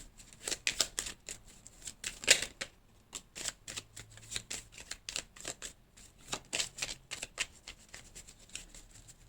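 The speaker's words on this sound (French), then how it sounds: "j'ai une carte qui tombe, signe de feu du 19" Tarot cards shuffled and drawn by hand: a close, quiet, irregular series of crisp papery riffles and snaps in short bursts, with no speech.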